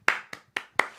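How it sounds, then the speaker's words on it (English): Five sharp, distinct hand claps in a quick uneven rhythm, close and clear with short decays, given as a round of applause among a few people on a podcast. "Round of applause."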